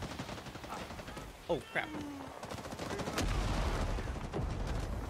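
Gunfire rattles through a firefight in the video game Rising Storm 2: Vietnam, set around rice fields: sharp cracks and bursts sound at varying distances, with a player's voice briefly exclaiming over the shooting.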